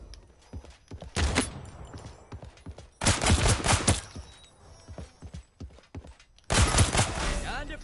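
Gunfire erupts in the video game Realm Royale, arriving as three separate clusters of rapid, loud shots with quieter stretches between them.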